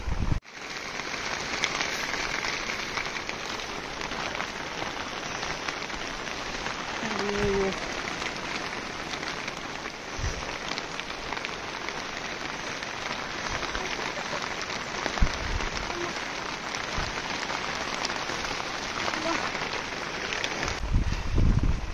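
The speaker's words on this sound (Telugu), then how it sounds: "వర్షం చూడండి, దుమ్ము లేపుతా ఉంది" Heavy rain pours steadily and loudly at an outdoor song shoot, a dense continuous hiss of drops on the ground and surfaces with a few brief knocks and small sounds scattered through it.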